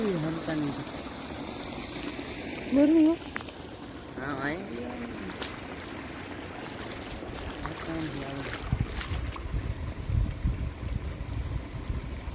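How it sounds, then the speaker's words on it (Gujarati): Water pouring from an electric pump motor on a groundnut farm, a steady broadband rush and trickle running throughout, with someone speaking briefly over it early on. "બધું પાણી મોટરનું છે વરસાદ વરસાદનું નથી"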